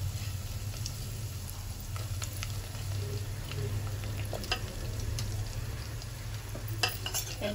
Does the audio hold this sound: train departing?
no